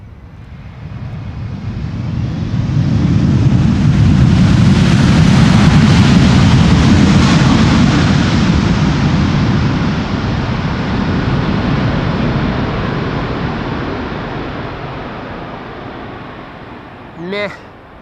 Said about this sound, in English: Now, another chance for a loud landing. Delta A330 arriving from New York.